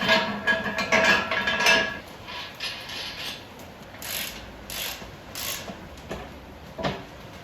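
A socket ratchet clicks in bursts while large bolts are tightened to attach the boom to the support post of a Harbor Freight engine crane, the metallic ratcheting loud at first, then in sparser, quieter runs with a few clinks.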